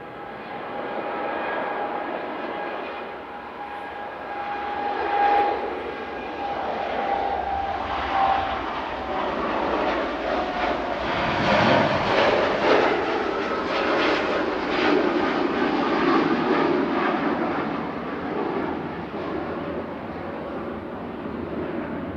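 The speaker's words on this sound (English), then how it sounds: "Etihad Flight 76 heading back to Abu Dhabi." Etihad Boeing 787-9 Dreamliner departing Manchester Airport for Abu Dhabi, a rising jet roar with tonal whine that grows louder and fuller midway as the aircraft passes, then holds as a broad rumble, with no talk.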